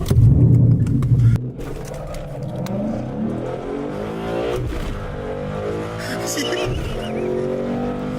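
A tuned car engine with an SCT tuner, a cold air intake and a 93 octane tune, revving loudly up through rising pitch sweeps and settling between pulls, heard close with a voice over the start.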